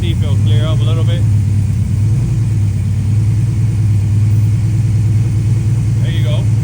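A forged-bottom-end LS engine on an EFI system runs on its first start with a little throttle held open, a steady close rumble throughout while someone talks over it.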